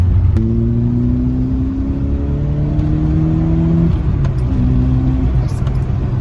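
A Peugeot 309 GTI engine drones and rises in pitch as it accelerates, heard from inside the car over steady road rumble, with a voice talking briefly.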